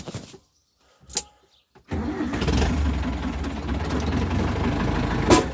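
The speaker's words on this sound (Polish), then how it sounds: "Teraz odpalimy maszynę naszą." A Zetor 7211 tractor's diesel engine cranks and fires up after a couple of faint clicks, then settles into a loud, steady rumbling idle close by.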